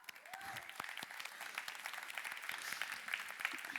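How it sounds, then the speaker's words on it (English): An audience at a DevReach 2023 conference talk claps steadily for a few seconds. The applause is distant and fairly faint, and a voice speaks briefly over it. "give a round of applause to all the organizers, volunteers, and all of you"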